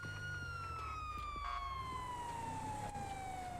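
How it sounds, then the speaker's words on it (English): Police car siren in a GTA V roleplay game, a single falling wail that sweeps slowly downward in pitch, faint and alone with a low engine hum beneath. "I would kill the sirens at this point, because if they're up there, they can hear it"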